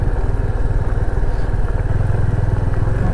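A motorcycle engine chugs steadily up close on a mountain road in West Sikkim, its rhythmic mid-pitched thrum holding even throughout with no voices.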